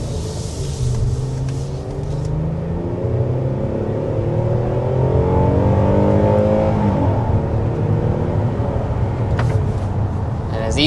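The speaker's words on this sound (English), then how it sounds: "we want to go ahead and start with a hard acceleration" A 2025 Hyundai Palisade under hard acceleration, its engine rumbling and rising steadily in pitch for about ten seconds, loud and continuous from inside the cabin.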